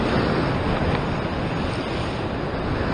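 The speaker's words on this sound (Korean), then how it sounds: "파도가 조금 센가?" Rough ocean surf breaks against a rocky shoreline where people fish from the rocks near Sydney, Australia. The wash roars loud and steady, with heavy wind buffeting the microphone and no voices.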